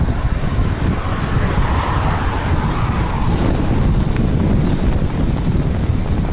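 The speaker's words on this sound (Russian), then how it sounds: "сильный ветер встречный, жесть просто" Strong headwind roars and buffets the microphone during a bicycle ride, without letup, a loud, rough rushing noise filling every moment.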